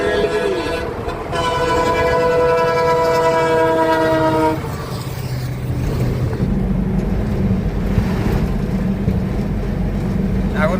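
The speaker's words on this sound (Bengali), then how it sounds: "ওই যে ট্রেন আসছে নিচে," A train crosses the Bijoynagar rail bridge before dawn, heard from a vehicle nearby: a long sustained horn blast over a rumbling run of wagons, which fades into continuous track noise and road hum.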